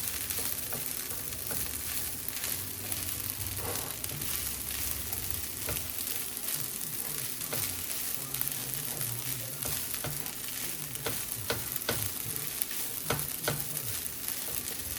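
Eggs sizzle and fry steadily in a hot pan for vegetable stir brown fried rice, a dense continuous crackle with scattered sharper pops and occasional stirring scrapes, close and even throughout with no talking.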